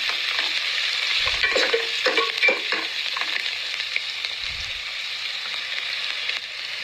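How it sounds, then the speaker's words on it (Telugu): Chopped garlic frying in a pan for gongura chicken biryani, a steady bright sizzle throughout with occasional stirring scrapes and clicks of the spoon against the pan. "మంచిగా చాప్ చేసి పెట్టుకున్న గార్లిక్ వేసేస్తాము మంచిగా పచ్చివాసన పోయినంత వరకు గార్లిక్ కూడా కొంచెం ఫ్రై చేస్తాను"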